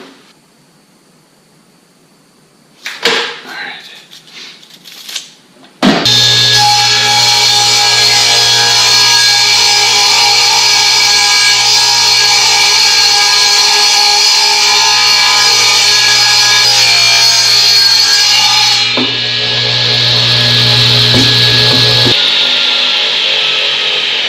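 A power saw cuts through wood for a pig pen build, running loud and steady for most of the stretch after a few brief handling knocks, then winding down near the end.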